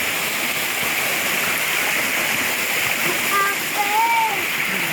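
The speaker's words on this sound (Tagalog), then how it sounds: "Ganda ng busay." A waterfall in Bani, Pangasinan gives off a loud, steady, close rushing roar, with a few faint voices and brief high whistling calls over it.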